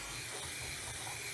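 Acrylic spray paint being applied to pots, a loud continuous close-up aerosol hiss with no pauses and no voices.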